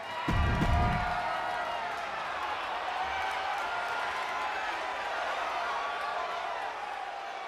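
A virtual wrestling arena crowd in WWE 2K26 roars steadily throughout, a dense, continuous cheer with a brief thump near the start and commentary voices talking over it.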